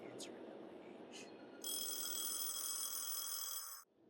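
A telephone rings in the Pajama Girl game, a bright sustained electronic bell trill lasting about two seconds before cutting off, preceded by two short chirps over a low ambient hum.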